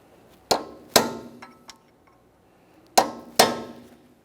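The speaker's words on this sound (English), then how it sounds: "We're going to be using a hammer and punch to try to drive part of this nut down into that groove." Metallic hammer strikes on a punch staking a Subaru Outback front axle nut ring out in two pairs, sharp clangs with a short ringing tail, plus a lighter tap in between, close up.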